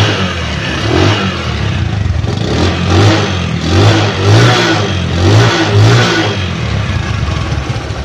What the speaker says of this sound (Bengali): ইঞ্জিনের ফ্রি অ্যাক্সেলেটারের ইঞ্জিনের সাউন্ড, ফ্রি অ্যাক্সেলেটারের স্যালেন্সারে।